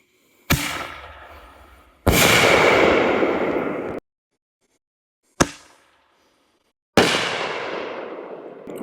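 A TNT firework shell fires from a rack with a sharp thump, followed by a loud sustained burst and crackle; a second launch thump and another long booming break follow, all close and without talk.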